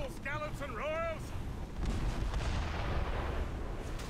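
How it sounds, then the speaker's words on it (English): Ship-mounted mortar fire in the Assassin's Creed Rogue video game, a deep rumbling boom that rolls on under wind and sea noise, following a brief voice. "They're within mortar range, that's all I know."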